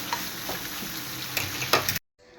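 Chicken liver sizzling gently in hot oil, a steady close frying hiss with a few stirring scrapes before it cuts off abruptly near the end.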